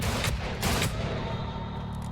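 Rapid bursts of gunfire in the video game Weird West, bright and crisp, over a dense rumbling backdrop of combat noise.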